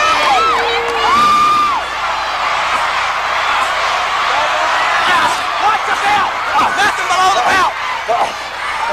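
A wrestling arena crowd roars and cheers loudly and continuously during a Ric Flair match against Kerry Von Erich, with whoops and shouts rising above the dense roar throughout.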